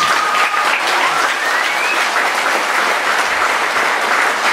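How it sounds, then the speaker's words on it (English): An audience at an orchestra concert breaks into loud, dense applause, a continuous wash of many hands clapping close and full for several seconds with no talk. "Let's give them another round of applause."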